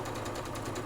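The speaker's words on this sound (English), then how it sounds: "we're going to start sewing our first 2 pieces together" A sewing machine slowly joins two quilt squares placed right sides together with a quarter-inch seam, giving a brief, even run of soft rhythmic motor pulses.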